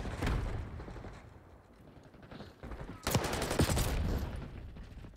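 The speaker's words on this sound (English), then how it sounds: "I don't even know who's shooting at me right now" Gunfire in a Call of Duty Black Ops 6 multiplayer match, with scattered shots early, then a dense burst of rapid automatic fire that rings out loudly through the final seconds.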